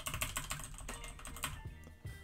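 Typing a command on a computer keyboard for a Next.js setup: a fast, close run of clicky keystrokes for about two seconds, ending in a few slower taps, with no voices.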